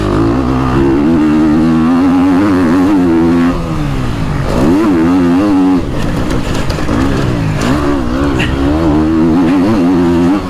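A motocross motorcycle on a dirt track in Trofarello, Italy, roars loud and close for the whole stretch, its engine pitch rising and dipping with repeated throttle blips and revs.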